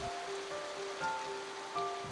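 Rain falls in a continuous soft hiss, with faint tonal notes drifting through the background and no voices.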